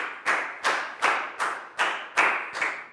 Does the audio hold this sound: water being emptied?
no